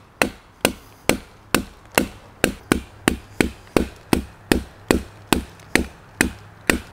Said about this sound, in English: I'm actually taking chunks of bark out.